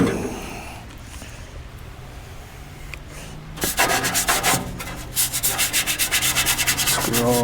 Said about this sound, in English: Scrub that down.